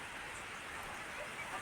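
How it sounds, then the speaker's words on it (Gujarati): Torrential rain falling in Halol, Panchmahal district, a steady dense hiss of downpour holding evenly from start to finish with no voices. "હાલોલ ગોધરા અને મોરવા હડફમાં મુશળધાર વરસાદ વરસ્યો છે"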